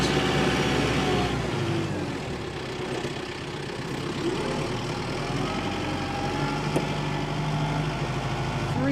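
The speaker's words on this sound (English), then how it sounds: "See how nice the tractor turns." A 2022 Kubota M7060D tractor engine idles steadily while the tractor turns, a low continuous rumble with a constant hum, fairly quiet and heard alone.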